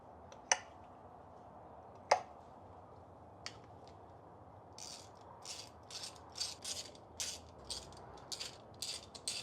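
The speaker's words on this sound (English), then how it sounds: "and then remove our old spark plugs." A ratchet works on spark plugs of a Saab 900 engine, faint at first with a few isolated metallic clicks, then a quicker run of close, crisp ratcheting clicks toward the end.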